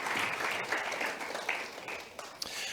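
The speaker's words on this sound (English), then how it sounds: "Let's give a wide applause to ourselves." An event audience applauds itself at a health-system gathering, a soft, fairly distant wash of clapping that continues steadily with a few louder claps near the end.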